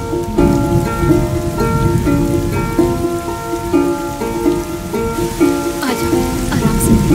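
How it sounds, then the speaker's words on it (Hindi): Steady rain falls in a film scene, a constant hiss that runs under a soft musical score throughout. "बारिश हो रही है, चलो अंदर चलो।"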